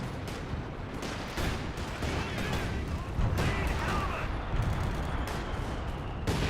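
Artillery barrage in the real-time strategy game Company of Heroes 2, a dense, continuous roar of overlapping explosions and gunfire rumbling steadily throughout, with periodic heavier blasts.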